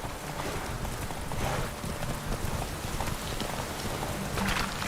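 Hooves of Geralt's horse Roach in The Witcher 3, a steady clip-clop of trotting under a wash of falling rain, fairly close and continuous with no voices.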